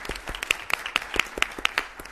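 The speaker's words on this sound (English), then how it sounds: "I would give them a nice round." Applause for two students after their presentation at a city council meeting, a small group clapping in an irregular patter of distinct claps in a room, with no talk.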